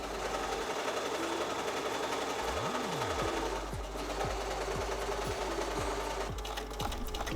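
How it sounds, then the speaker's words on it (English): Sewing machine fitted with an edge stitching foot, stitching in the ditch on altered trousers, running in a steady continuous whir with a rhythmic mechanical buzz and brief shifts in speed, close and alone. "I changed my presser foot to use a edge stitching foot for this"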